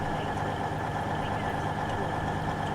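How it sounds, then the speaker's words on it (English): The diesel engine of a Voyager train drones in Train Sim World, a steady low throbbing hum with a constant engine tone held at even volume throughout, with no talking. "with the sound of the diesel engine"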